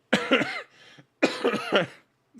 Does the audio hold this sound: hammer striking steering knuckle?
no